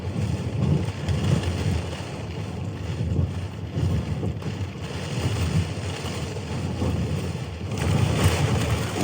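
Wind gusts buffet a tarp at a snowy winter camp, a steady low rumbling roar that swells louder near the end, with no voices.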